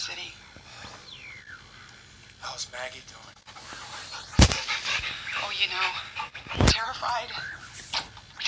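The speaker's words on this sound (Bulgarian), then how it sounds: "Е, то кучето." A dog pants in the video game Into the Dead, with quick breathy panting and whimpers over game ambience, interrupted by two sharp loud gunshots and a voice speaking quietly.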